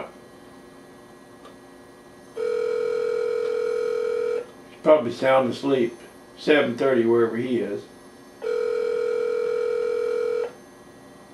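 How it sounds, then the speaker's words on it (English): A telephone call on a handset: steady ringback tones pulse twice with long gaps, and someone talks between the rings, close and clear over a low hum. "Says it's dialing."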